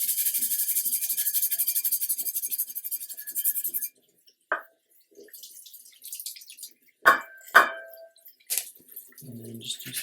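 Water sprays steadily for a few seconds while rinsing the rotary roller of a Haotian HT-460 laser, then stops, leaving scattered close drips and small splashes in near silence.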